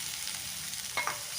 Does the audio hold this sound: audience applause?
no